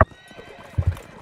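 Horse hooves clip-clopping in a video game, a few quick thudding steps with a whinny-like burst at the start, fairly close and brief.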